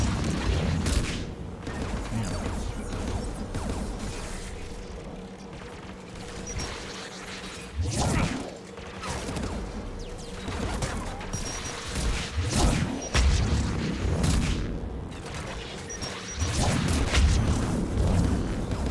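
Anti-aircraft guns in the video game Mass Effect 3 fire heavy booming shots at irregular intervals over a constant rumbling backdrop, each blast crashing out moderately loud.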